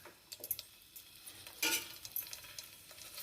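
Green chillies frying in ghee for a tomato curd chutney, a quiet sizzle with scattered ticks and pops and a brief louder stir or clatter midway.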